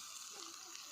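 Country chicken curry pieces sizzle in hot oil in a home kitchen, a soft, faint, steady frying hiss.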